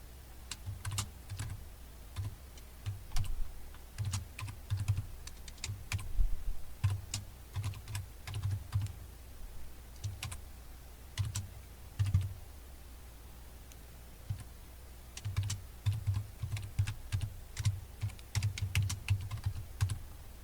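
Steady bursts of computer keyboard typing as code is entered in the Gambas programming environment on Linux, with rapid clustered keystrokes, short pauses between runs, close and fairly quiet.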